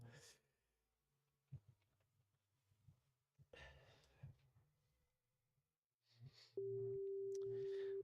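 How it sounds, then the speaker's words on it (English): A steady, pure sine wave tone synthesized in Plugdata sounds near the end, coming after quiet breaths and soft clicks. "I love sine waves."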